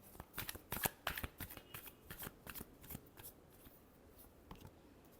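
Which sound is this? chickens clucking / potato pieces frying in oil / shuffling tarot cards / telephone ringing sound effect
shuffling tarot cards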